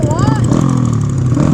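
A Honda Grom motorcycle engine hums steadily close by during a downtown ride, a rising pitch sweep early on, with people talking loudly over it.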